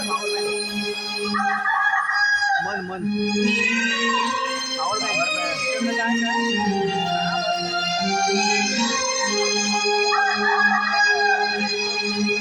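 A rooster's dawn crow is imitated in a folk stage performance, a long drawn-out sung call over steady harmonium-like drones and stage music, loud and continuous, with voices carrying through.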